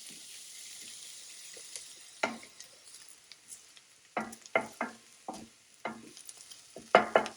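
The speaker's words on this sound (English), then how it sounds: "I have a tablespoon of oil in here and my half a cup of onion." Onion frying in a tablespoon of oil on the stove, a faint low sizzle punctuated by a series of sharp scraping and tapping stirs that grow denser toward the end, close and quiet.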